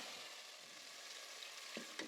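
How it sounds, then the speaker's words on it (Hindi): Faint, quiet sizzling of cumin seeds frying in hot oil for a tempering, with a couple of small crackles and pops near the end. "अब हम इसमें थोड़े से ऑयल में तड़का लगा लेंगे। ज़ीरे का तड़का लगाया था।"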